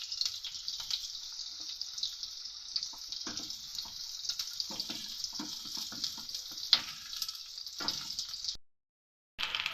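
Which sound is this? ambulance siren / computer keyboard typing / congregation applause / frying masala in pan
frying masala in pan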